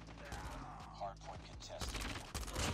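Rapid bursts of gunfire in Call of Duty Mobile, quick volleys of shots fired in clusters, moderately loud and dense, with a player talking over the action.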